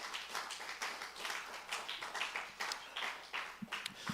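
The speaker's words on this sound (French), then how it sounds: "est-ce qu'on peut donner encore une belle main d'acclamation" Church congregation applauding during a service, quiet and somewhat distant, a loose patter of many clapping hands with a few sharper claps near the end.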